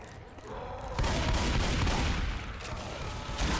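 Continuous gunfire in Left 4 Dead on the Dead Center campaign at Expert Realism difficulty, with dense rapid shots and booms forming a loud, sustained fusillade that swells after the first second and barely lets up.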